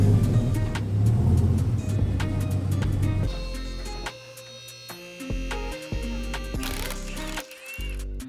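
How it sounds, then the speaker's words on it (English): A damaged Dodge Viper ACR's engine idles with a low rumbling hum and metallic rattling from a crushed exhaust, then the tone shifts to a steadier, lower drone. "We even have a little bit of good old-fashioned rattle thanks to our crushed-in exhaust."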